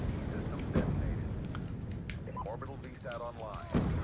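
Gunfire from a Black Ops 2 match on the Vertigo map, a few sharp shots in bursts mixed with game effects, heard under steady commentary and talk from players.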